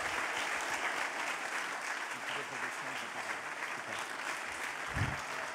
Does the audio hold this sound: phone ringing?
no